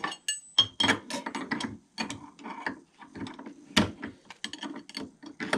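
A router collet is loosened by hand with a wrench on an unplugged router holding a carbide bit, giving a string of close, sharp metallic clicks and ratcheting taps in irregular bursts with short pauses.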